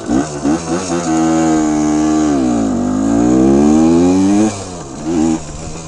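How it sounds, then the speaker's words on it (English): A 1974 Honda MT125 Elsinore motorcycle starts first kick, then its small engine revs up and holds a high, buzzing drone before dropping back to idle and blipping again, close and loud. "let me give her a quick little rip here, and then fires right up, first kick"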